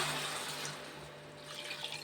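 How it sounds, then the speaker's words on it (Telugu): Water pours steadily into a container for about two seconds, a continuous close rushing flow with no break and no voices. "ఇంకొన్ని వాటర్ పోస్తున్నాను"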